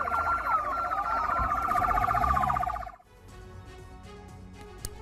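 Ambulance sirens wail and warble loudly at a medical complex hospital after an attack, layered and continuous for about three seconds before cutting off abruptly, leaving quieter background noise with scattered faint clatter.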